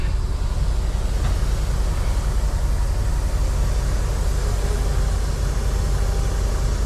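A semi truck eases slowly forward out from under a dropped trailer, its engine and cab noise forming a steady, loud, unbroken rumble with no talk.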